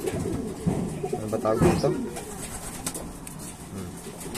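Pigeons coo with soft, throaty repeated calls near the middle, close by, while a person speaks over them.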